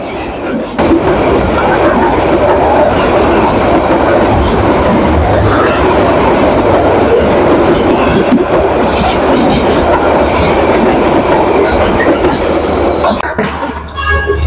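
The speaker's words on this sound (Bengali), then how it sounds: "আমরা নামার একটু পরেই ক্রসিং এর ট্রেনটা যাচ্ছে" A train rumbles past at a railway crossing near Tejgaon in Dhaka, a loud, continuous roar of wheels and rail clatter lasting throughout before easing slightly at the end, with voices faintly audible beneath.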